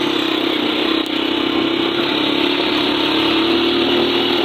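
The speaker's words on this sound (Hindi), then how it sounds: "ये ऑफ रोड हम बाइक राइड कर रहे हैं" A motorcycle is ridden on a rough off-road track toward Gappa Valley in Nagar, Gilgit-Baltistan, at dusk. Its engine drones loudly, close and steady throughout, with no voices.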